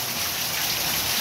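Steady heavy rain in the rural Brazilian northeast, a dense, even hiss of drops falling close by with no voices.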